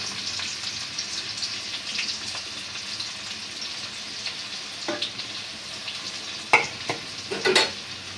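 Chopped onion and green chilies fry in hot fish-frying oil in a village kitchen kadai, a steady close sizzle broken by several sharp scraping stirs near the end.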